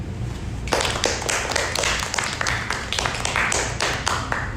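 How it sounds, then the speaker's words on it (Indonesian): Audience applause for two debate teams at a university debate, a dense burst of many hands clapping that starts abruptly after a short quiet moment and carries on steadily to the end. "Mari kita sambut kedua tim dengan tepuk tangan."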